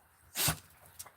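A single short sneeze during a live stream from a farm, a quick burst close to the microphone followed by faint small sounds.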